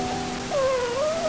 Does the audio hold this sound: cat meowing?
yes